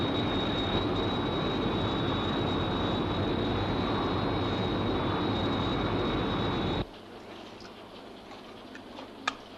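Steady, loud broadband roar of an aircraft in level flight at 10,000 feet, a continuous cabin-like drone with a faint whine, cutting off abruptly to near quiet after about seven seconds.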